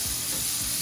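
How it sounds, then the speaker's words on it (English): Meat searing on a grill with olive oil, a steady, close, loud sizzle with a constant hiss throughout the short moment. "We're gonna put this in the grill to actually sear this meat on both sides."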